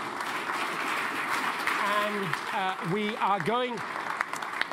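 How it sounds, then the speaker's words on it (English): An audience claps steadily for the panel at a Chatham House event on mine clearance, conservation and economic development, the applause running under a voice that speaks over it. "So let's give them a round of applause"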